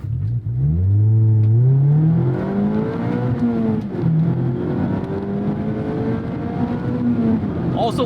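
Mazda Miata ND with an exhaust valve opening at a lower cutoff, engine revving up repeatedly, loud and close, rising and falling pitch with a raspy exhaust note throughout.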